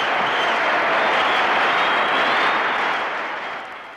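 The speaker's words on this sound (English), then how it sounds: "There's a tremendous roar from the crowd as the two meet, and Bailey puts his arm around Shore" A hockey arena crowd roaring and applauding, a thick wash of cheering and clapping that stays loud and then begins to fade toward the end.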